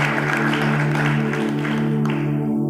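A church congregation claps together, a dense sustained patter of applause over steady musical tones, ending fairly abruptly.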